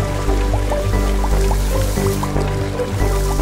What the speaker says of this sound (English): then it rains